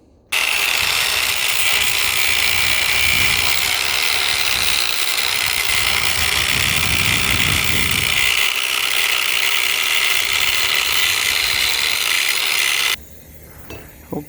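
A power tool cuts through a metal throttle bracket with a steady, loud, close grinding whine that runs unbroken for about thirteen seconds before stopping abruptly, followed by faint handling noise.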